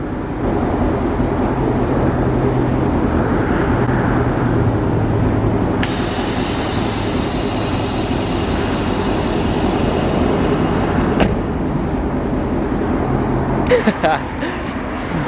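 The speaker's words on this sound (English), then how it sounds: "let's go ahead and air out the car all the way" Air bag suspension on an S550 Mustang GT vents fully, a loud steady hiss of escaping air that starts abruptly and runs for several seconds over a running engine, then cuts off with a faint clunk.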